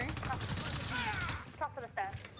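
Rapid bursts of gunfire from the video game Warzone rattle in quick succession, dense and continuous at first, then a few separated shots, with voices talking over the action.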